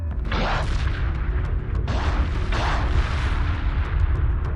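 Repeated heavy explosions as bombardment platforms are destroyed in the space strategy game Homeworld 2, booming in several overlapping bursts over a dense, continuous rumble of battle.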